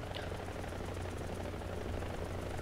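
An AH-1Z Viper attack helicopter in War Thunder drones with a steady, thumping rotor and engine roar, constant and fairly loud throughout, with no talking.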